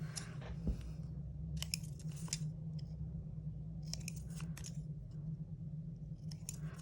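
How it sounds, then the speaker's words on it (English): Loose bonsai scissors snipping paper for a junk journal, a handful of short crisp cuts spaced irregularly over a quiet low room hum, close and fairly soft. "I don't know why these have become my go-to scissors, because they're loose as anything"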